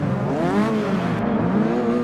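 A Ford Focus ST in the Forza 6 Apex racing game revs hard at full throttle, with the engine note climbing and wavering under acceleration, loud and up close with no talk.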